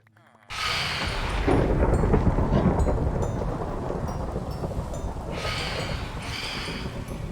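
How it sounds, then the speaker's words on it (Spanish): Thunder cracks and rolls through a thunderstorm in a survival video game, bursting in loud and then rumbling on over heavy, steady rain, close and full, with no voices. "estoy aquí en plena tormenta"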